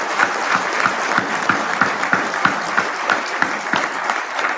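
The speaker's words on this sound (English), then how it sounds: "Give them a round of applause." An audience at a military retirement ceremony claps steadily, with rhythmic hand claps that hold at a moderate level and carry no voices over them.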